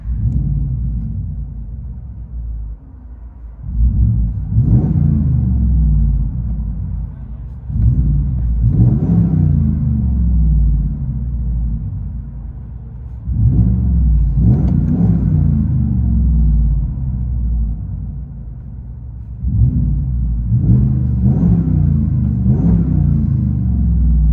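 Deep engine rumble of a 2022 Ram 1500 Rebel pickup's 5.7L HEMI V8 with Dynomax Bullet mufflers, heard from inside the truck, swelling in several loud revs separated by idling lulls, no talking.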